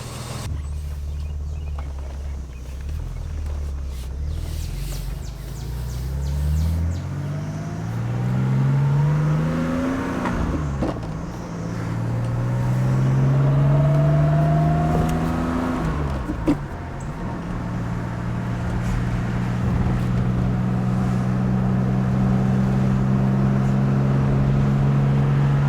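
A vehicle on a quick test drive after its first wash following thousands of miles through desert and snowy mountain passes, with fresh fluids; a steady engine hum rises and falls through several gear changes, close and continuous, with no talk.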